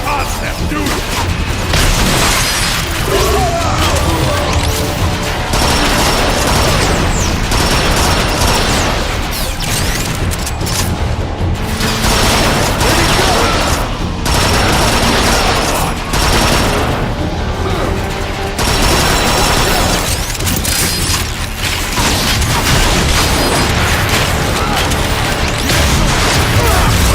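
Dense, continuous barrage of rocket blasts, gunfire and crashing booms in the Transformers: Fall of Cybertron shooter, loud throughout, with voices shouting over the battle.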